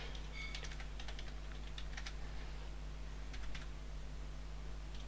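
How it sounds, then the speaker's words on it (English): Quiet, steady typing on a computer keyboard, with scattered soft key clicks over a constant low hum and no talk. "going to type in the address of the remote server"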